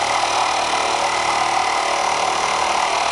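A Keppe electric motor spinning at about 3,000 RPM with a cold coil, giving off a steady, dense whirring hum with constant pitch and no variation, close and loud.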